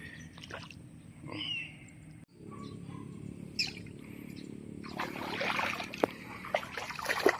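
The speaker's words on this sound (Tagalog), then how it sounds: "Dito sa portion nito medyo mataas yung ating tubig. Ayun tumatapon ayun, kumakabila dito." Faint water trickling and spilling over from a high-water section of a rice paddy, with scattered bird chirps, a brief bump and growing splashy rustle toward the end.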